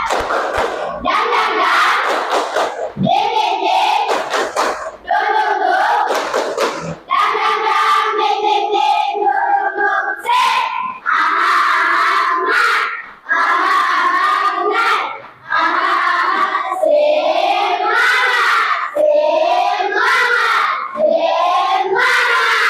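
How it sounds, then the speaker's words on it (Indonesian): Pupils in an Islamic education class shout a rhythmic chant together with claps and stamps as a spirited ice-breaker, loud and energetic group voices in repeated bursts with short breaks between phrases. "Tepuk semangat."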